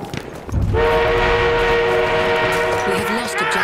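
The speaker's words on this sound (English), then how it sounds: "Train en route." A train rolls past in the World War I shooter Battlefield 1, its steady rumble and sustained horn-like tones loud and close, continuous after a brief quieter start.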